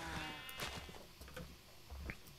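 Sheep bleating in a survival crafting video game, several short wavering baas in quick succession, close and fairly loud with no talking.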